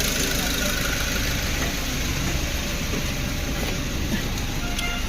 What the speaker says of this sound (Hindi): टर्बो और गाड़ी के साउंड भी एकदम ठीक है